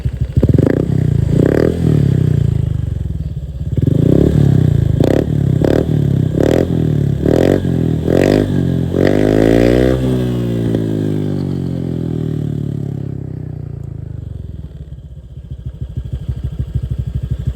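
A motorcycle fitted with a slightly dirty Tycom exhaust pipe revs in a run of sharp bursts, then holds a long, rising and falling rev before settling to a rumbling idle, loud and close.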